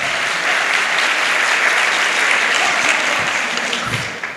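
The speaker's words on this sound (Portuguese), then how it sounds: "Diga aí, pode aplaudir." Congregation applauding during a church worship service, loud dense clapping that stays full and continuous, tapering slightly at the end.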